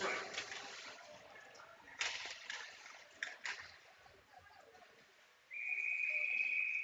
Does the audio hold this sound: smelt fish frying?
no